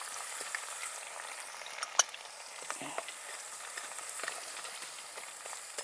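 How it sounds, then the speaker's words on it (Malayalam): Finely chopped garlic frying in a pan for a Kottayam-style fish curry, a steady close sizzle with small pops and crackles throughout, no voices. "ഒരു വലിയ 6 വെളുത്തുള്ളി കുനുകുന അരിഞ്ഞത് ഇട്ട് കൊടുക്കാം"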